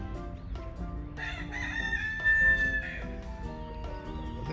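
A rooster crows once, loud and fairly near, its rising call standing out over a busy outdoor park background with other birds and distant crowd noise.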